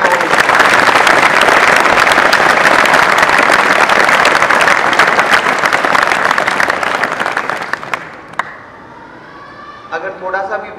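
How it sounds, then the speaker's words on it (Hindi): Loud, sustained applause from a large crowd, dense clapping that fades out near the end, followed by a few faint voices. "अपने लिए जोरदार तालियां बजा लीजिए"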